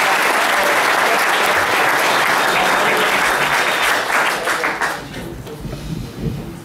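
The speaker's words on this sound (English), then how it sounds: "Can we get a huge round of applause for Pini Reznik from Container Solutions" A conference audience welcomes a speaker with a big round of dense, loud applause that holds strong for about five seconds, then tapers into a few scattered claps.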